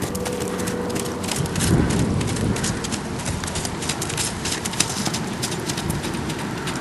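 Steady hoof clip-clops of an eight-year-old spotted Tobiano saddle horse tap along in a quick, smooth-gaited rhythm, with pigeons cooing faintly in the background.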